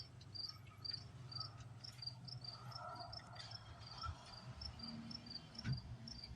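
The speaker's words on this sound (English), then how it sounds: "look at the grasshopper here." Insect chirping, likely a grasshopper, outdoors: a faint, rapid repeated pulsing that runs steadily through the quiet background with no voices.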